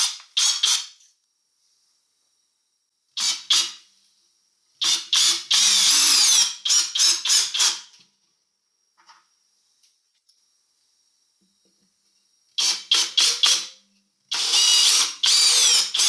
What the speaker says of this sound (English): Let's put some screws in this newly drilled piece.